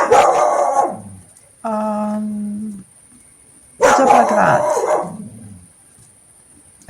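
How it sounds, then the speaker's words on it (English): A dog barks close by in two sharp bursts with a drawn-out howling whine between them, and a person speaks briefly nearby. "sorry for the dog"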